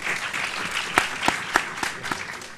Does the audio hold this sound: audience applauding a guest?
yes